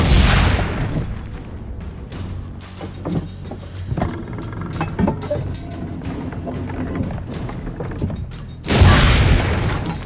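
A cannon fires in Assassin's Creed set in 1499 Rome, opening and closing with heavy booming blasts that roll out, and a rumbling battle din runs between them.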